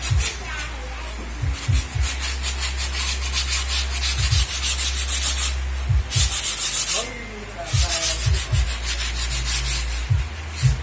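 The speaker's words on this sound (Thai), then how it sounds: "เศษกระดาษทรายที่เหลือนะมาขูด" Rapid, harsh back-and-forth scraping of sandpaper on skateboard grip tape in repeated bursts, close and loud, with short pauses between strokes.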